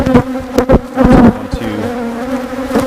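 Honeybees buzzing around an open hive on a farm, loud close droning hums that swell and fade as individual bees pass near, with a softer continuous buzz underneath.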